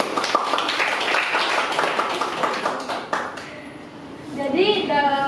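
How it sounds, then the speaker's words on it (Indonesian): Audience applause in a university teaching-skills session, a few seconds of dense, fairly close hand clapping that tapers off, with a voice speaking as it fades. "Beri tepuk tangan untuk"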